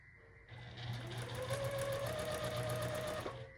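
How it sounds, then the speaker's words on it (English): A sewing machine runs steadily while stitching a quilted scarecrow leaf block, a close continuous whir for about three seconds, its motor pitch rising slightly as it speeds up, with no talk. "so I always stitch a little over to the side of that drawing line"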